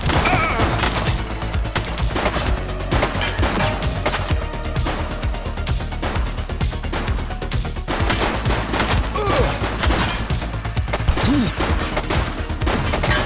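Rapid gunfire from a suspect in the police game The Precinct, dense bursts and crackling shots rattling continuously and loudly throughout, with brief shouted voices mixed in.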